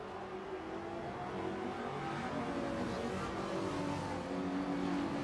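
Modern Sport GT race cars roar together at Brands Hatch, a dense, steady wall of engine noise from a pack racing close by, with revving and shifting pitch throughout.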